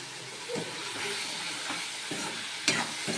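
Spring onion and tomato curry being stirred in a pan over low flame, a soft bubbling sizzle broken by several spoon scrapes and a sharp clink near the end, close and unaccompanied by talk.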